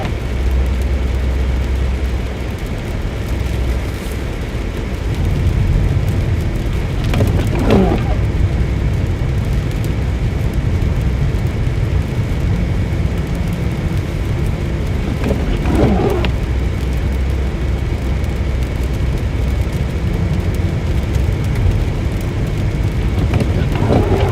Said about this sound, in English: Still 25 degrees here and raining.